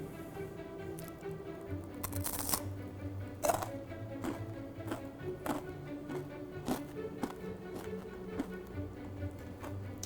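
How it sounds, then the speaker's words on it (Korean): Crunchy brown rice yeot-gangjeong is chewed close up, making crisp irregular crackling bites that repeat over several seconds under quiet room sound. "씹히는 소리 들리시나요?"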